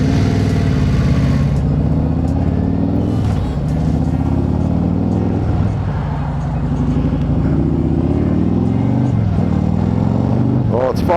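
A rider's motorcycle lane splitting through rush hour traffic in Los Angeles, its engine a steady close drone with brief revs, surrounded by the rumble of nearby cars and trucks.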